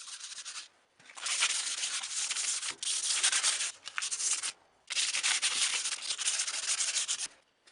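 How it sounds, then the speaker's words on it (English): Sandpaper rubbed along a hand-forged hunting knife blade in long steady strokes, a close, raspy scratching in four runs separated by short pauses, with no voices. "Now I'm going to go over it with a bit of sandpaper to smooth out any uneven sections."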